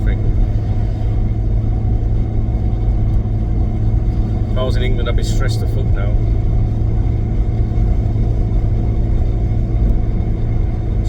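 A car cruising on a two-lane Spanish motorway in flowing traffic, with a steady engine and road rumble throughout while someone talks over it.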